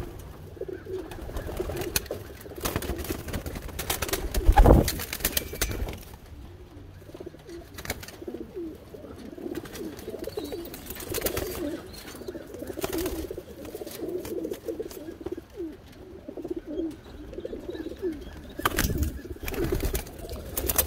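Pigeons coo inside a loft, low soft rolling calls repeating from several birds at close to moderate distance, with occasional wing flaps and rustling amid quiet room noise.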